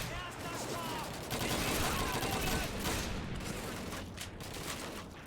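Machine gun fire from the video game Call of Duty 2, a dense continuous burst of rapid shots with battle noise that stays steady throughout.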